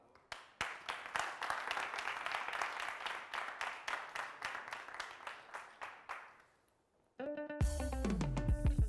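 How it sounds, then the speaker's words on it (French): Scattered studio audience clapping on a TV entertainment show starts, swells into a steady round and fades out over several seconds, then tonal music cuts in. "Je vais vous demander de faire beaucoup d'applaudissements pour Bic Rouge qui nous rejoint"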